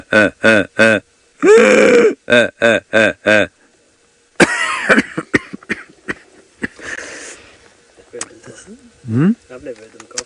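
A man on a safari drive imitates a hippo call with a run of deep, rhythmic grunting bursts, then breaks into a string of coughs and rough throat noises, all close and loud.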